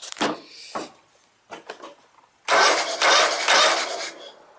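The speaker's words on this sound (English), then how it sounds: "I love it when the motor just spins over and there's little or no compression" A lawn tractor engine with low compression cranks over in uneven bursts, loud and close, with short starter whirs and then a longer run of fast, easy spinning that never catches.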